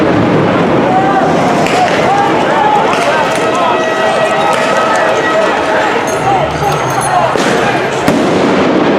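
Flash bang grenades go off like firecrackers at a street protest, sharp pops among a loud, dense crowd roar with shouting and people talking throughout.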